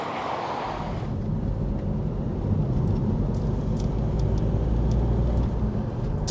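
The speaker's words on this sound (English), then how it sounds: "This will give you an idea of what it's like to drive into Blackpool" A car travels along the M55 motorway toward Blackpool, its engine and tyre roar a steady low drone heard from inside the vehicle, swelling slightly midway with faint ticks above.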